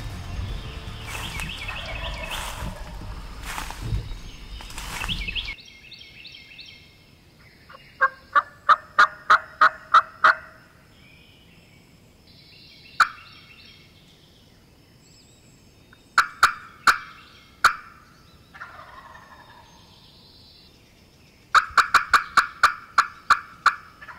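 Wild turkey gobblers call repeatedly in a hardwood creek bottom in Mississippi, loud rattling gobbles arriving in quick bursts from several birds, some close and some farther off, with quiet gaps of still woodland between the bursts.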